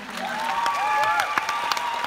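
A conference audience at a social media panel in Barcelona claps for a panelist on stage in a steady burst of applause, with sharp individual claps and whistles or cheers rising above it.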